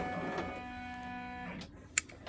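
Embroidery machine stitching a design, a steady mechanical whir with tonal hum for about a second and a half, then stopping, followed by a brief sharp click.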